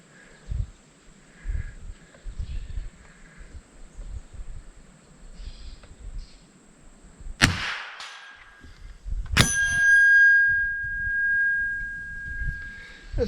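MAS45A Mauser training rifle fired at a 6-inch steel gong: two sharp cracks, the second followed by a bright ringing metallic tone that fades slowly, amid faint outdoor rustling and murmurs.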